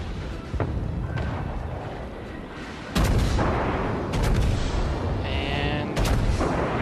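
Secondary gun batteries on the cruiser Atlanta firing in World of Warships, a series of sharp booming shots landing in irregular bursts, with a louder volley at about three seconds and more cracks after it, over a low rumble.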